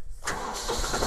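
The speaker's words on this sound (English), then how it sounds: "Larkin, you can go ahead and turn the tractor on" A farm tractor's engine cranks and catches after a brief quiet moment, then runs at a steady, loud idle close by, with no talking over it. The tractor is being used to pick up drip irrigation tape.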